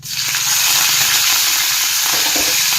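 Cumin seeds drop into hot oil and burst into a loud, hissing sizzle that swells within the first half second and then crackles on steadily, close and dominant.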